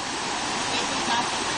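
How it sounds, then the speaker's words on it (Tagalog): Loud, steady rush of a fast-flowing creek current, a continuous broadband roar with no pauses. "lakas ng agos ng tubig"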